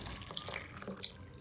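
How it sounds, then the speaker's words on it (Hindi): Masoor lentils being washed in water make close, brief sloshing and dripping, with light splashes and a few sharp droplet plinks. "मसर अच्छे से वॉश करेंगे। अच्छे से वॉश करने के बाद मसरों को पानी के अंदर डिप करेंगे।"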